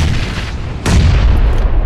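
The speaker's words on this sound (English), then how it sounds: "Oh, do another grenade." A grenade explosion in a video game, one loud boom that bursts in partway through and rumbles on, following a steady background of battle noise.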